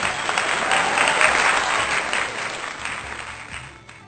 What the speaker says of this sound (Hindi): जोरदार तालियां नीतू नवगीत जी के लिए